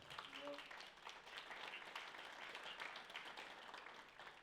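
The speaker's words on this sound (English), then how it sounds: "One more big round of applause" Audience applause for panelists at a marketing networking panel, a steady dense wash of many hands clapping that stays fairly even throughout, heard from the room at moderate distance.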